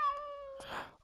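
A cat lets out a single clear meow, drawn out and tonal, then a short breathy rustle, close and fairly quiet, with no talk.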